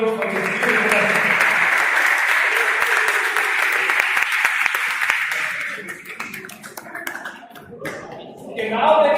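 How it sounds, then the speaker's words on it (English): A lesson audience applauds loudly at a children's and parents' gathering, dense steady clapping that fades after about six seconds, leaving scattered claps, chatter and voices, then a brief swell of noise at the end. "let's give a big round of applause to everyone for this beautiful lesson."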